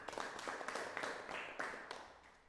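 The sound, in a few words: classroom applause for group 3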